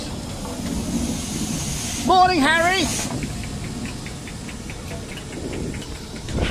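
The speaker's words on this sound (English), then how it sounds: "Crikey, that's a good looking locomotive." The Jacobite steam locomotive releases a loud hiss of steam amid a noisy outdoor station crowd, with a brief whistle-like tone and a short greeting spoken over it.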